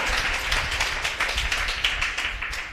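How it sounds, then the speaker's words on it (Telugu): A church congregation claps hands together in a steady, rhythmic beat, many hands striking at once and fairly loud, continuing throughout with no speech over it. "చప్పట్లు కొట్టండి గట్టిగా."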